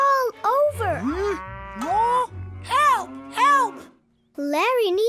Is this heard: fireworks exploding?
no